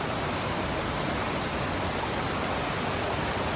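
Shannon Falls, a waterfall along the Sea to Sky Highway toward Whistler, gives a loud, steady, broadband roar of rushing water with no break and no voices.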